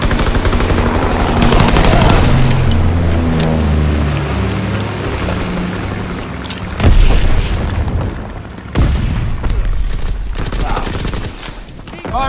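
Artillery strike in Call of Duty WW2 multiplayer: loud, close explosions and crackling gunfire pile up in a dense barrage, with sharp heavy booms near the middle and a voice speaking briefly over the din.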